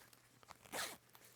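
A zipper on a banana costume is pulled open in one quick, quiet zip. Faint rustles and small clicks of fabric come before and after it.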